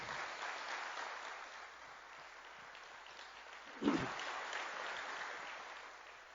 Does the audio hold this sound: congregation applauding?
yes